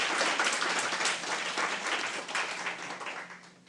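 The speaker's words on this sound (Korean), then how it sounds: "큰 박수로 모셔주시면 감사하겠습니다" An audience at a forum presentation applauds to welcome a speaker, a full, steady round of many hands clapping that slowly fades toward the end.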